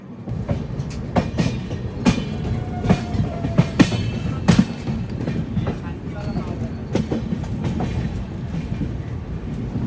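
The Andaman Express rolls past at Nagpur Junction with a steady rumble and repeated clickety-clack of wheels over rail joints, close and loud throughout, a few brief voices in the background.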